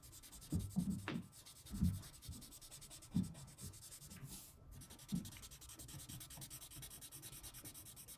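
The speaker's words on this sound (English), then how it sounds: "this just really helps to blend out any of those harsh lines from the pencil" Paper rubbed to blend a pencil drawing of lips, soft, close brushing strokes in an irregular rhythm, each a quiet swish with faint scratchy texture and no voices.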